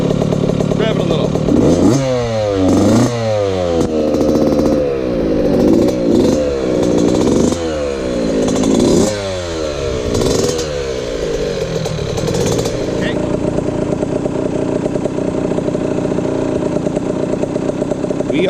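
A Yamaha YZ65 dirt bike fitted with an FMF Turbinecore 2 exhaust revs repeatedly, loud and near, with sharp climbing and falling blips that settle into a steady high idle, voices talking over it.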